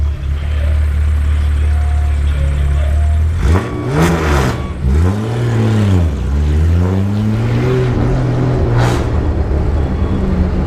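Jaguar XK120 with a 3.4-litre straight-six engine and loud straight-through exhaust, driving through London. A steady loud engine drone rises and falls through several revving gear changes, close and continuous.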